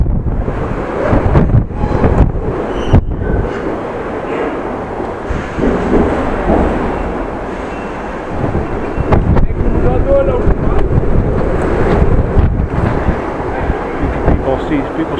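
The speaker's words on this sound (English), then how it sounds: "Still gusts of wind, by the way." Strong wind gusts roar and buffet the microphone in uneven surges during a bike ride in Groningen, with a voice speaking intermittently beneath the rushing noise.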